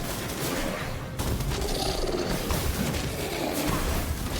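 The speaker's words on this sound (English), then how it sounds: "Like an energy rifle." An energy rifle in Ziggurat 2 fires rapid three-round bursts amid dense, loud mechanical crackle and clatter from the game, with the shots running together almost continuously.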